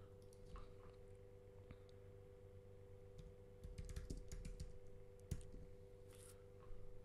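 Faint, quiet keyboard typing in scattered bursts of clicks, with a louder cluster near the middle, over a low steady background hum.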